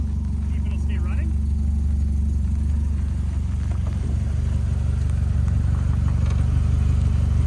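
A Mercedes 190E Evo 2 engine runs at a steady idle, a continuous low droning rumble close by, while people talk intermittently over it.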